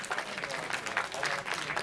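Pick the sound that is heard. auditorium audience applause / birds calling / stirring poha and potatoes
auditorium audience applause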